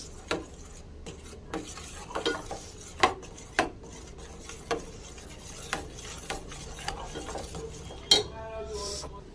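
Spoon stirring payesh, rice pudding with milk powder, in a cooking pot: repeated scraping strokes and sharp metallic clinks against the pot in an uneven rhythm, close and clear over a soft background hiss.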